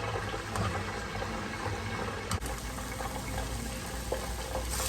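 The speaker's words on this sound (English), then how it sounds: "I'm just gonna let this cook for like until the onions get just a little brown" Onions frying in a pan for a Kenyan wet fry tilapia dish, a steady dense sizzle that holds constant throughout with a faint low hum underneath and one brief click midway.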